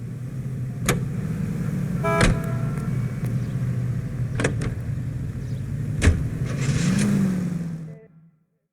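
A car engine drones steadily while being driven in the video game LA Noire, with sharp clacks and short bursts breaking through, before the sound cuts out abruptly near the end.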